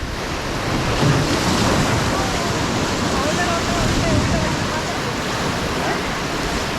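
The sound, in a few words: river rapids during rafting on Ulhas river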